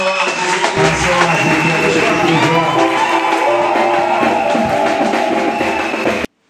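A church congregation at a CMCI crusade gathering in Daloa acclaims and cheers. It is loud and continuous for about six seconds, with sustained tonal sounds woven through the crowd noise, and it cuts off abruptly.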